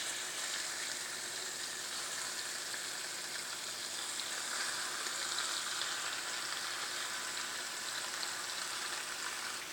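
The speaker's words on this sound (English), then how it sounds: "you're going to add the meat to the skillet" Thinly sliced meat frying in a skillet for a Philly cheesesteak, a dense, even hiss of sizzling fat that holds steady throughout, close and fairly loud, with no talk.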